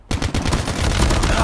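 Automatic gunfire in the shooter game Alcatraz, fired at an enemy player: a fast, continuous rattle of loud, close shots that starts suddenly and keeps going without a break.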